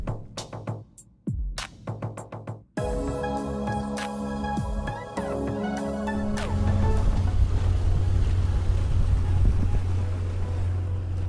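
An oyster farmer's motorboat on Arcachon Bay near Île aux Oiseaux, with bumping thuds at first, then a steady engine drone, splashing water and wind buffeting the microphone, loud and close.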